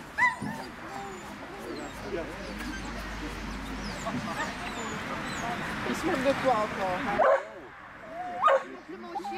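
A dog barks, yips and whimpers in repeated bursts close by, mixed in with a person speaking French over it, with a short quieter gap near the end before a few more yelps.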